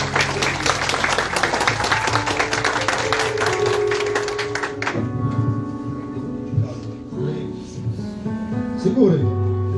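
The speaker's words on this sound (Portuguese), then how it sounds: "Aplauda o Senhor." Church congregation clapping in praise during a Portuguese-language worship service, dense applause for about five seconds, then fading under sustained keyboard or organ tones and a voice.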